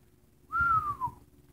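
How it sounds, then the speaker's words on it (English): A person whistles a single short note that slides gently downward, clear and close against a quiet background, lasting under a second. "That was a poor attempt at a whistle."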